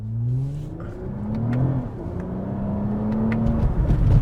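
A Toyota Camry TRD V6 sedan accelerates along a road, its engine note rising steadily in pitch through the gears with tire and road noise underneath, heard from inside the car without talk.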